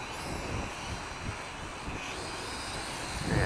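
A Sharper Image Platinum Series Lunar 14.4-inch FPV drone flies in strong wind, a steady whirring hum mixed with rough wind buffeting that swells slightly at the end, with no talk.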